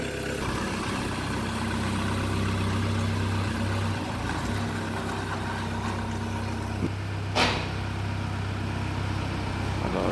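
A 2.1-litre 88 hp Renault Espace idles steadily on a road test after a clutch cable change, a low continuous engine drone. Near the end comes a faint hum of rising revs and a brief click.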